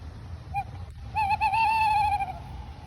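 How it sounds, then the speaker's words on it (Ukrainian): An eagle-owl hoots, a short call followed by a longer, wavering hoot, fairly clear against a quiet background. "Це сова філін."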